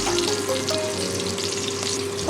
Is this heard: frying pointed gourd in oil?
yes